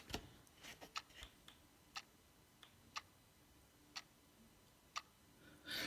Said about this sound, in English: that little constant ticking is pretty annoying